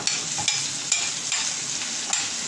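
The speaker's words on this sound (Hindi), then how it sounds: "इसमें मैं अदरक डालूंगी और ये हरी मिर्ची डालेंगे जो मसाला भरी थी तेज़ी से इसको हिलाएंगे" Ginger and masala-stuffed green chillies fried for achar gosht, stirred quickly in a hot pan with a bright steady sizzle and several sharp spoon scrapes and taps.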